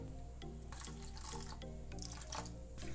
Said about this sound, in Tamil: இன்னும் ஒரு அரை கப்பு தண்ணி ஊற்றணும்